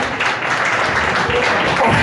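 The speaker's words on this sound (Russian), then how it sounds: "Ваши аплодисменты." Audience applause for a singer at a televised show, a dense steady clapping wash that stays loud and even for about two seconds, with no voices standing out.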